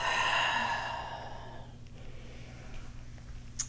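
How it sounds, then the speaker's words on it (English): A long, deep exhale during pranayama yoga breathing practice, close and soft, fading out after about two seconds into quiet room tone. "Take a breath."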